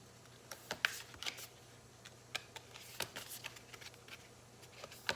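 Soft, intermittent riffling and slapping of oracle cards being shuffled by hand, quiet and close, with irregular bursts and pauses.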